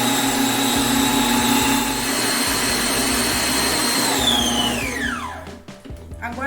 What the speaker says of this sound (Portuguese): volto a bater até virar o creme branco